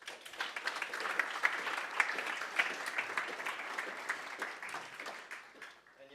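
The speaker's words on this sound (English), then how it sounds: "let's start with an applause" Applause from a conference audience after a software talk on the Elm compiler at GOTO 2017, heard at a distance as a steady, moderately faint wash of clapping with a few sharper claps standing out.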